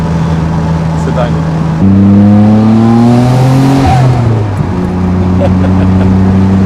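A 32-year-old Nissan R32 GTR engine pulls hard and climbs through the gears while driving, loud and close, with a brief shift break and rising pitch before settling back to a steady cruise.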